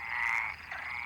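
Stripeless tree frogs and Iberian water frogs croak from a shared pond in a dense, continuous chorus, steady and fairly close, with no voices over it.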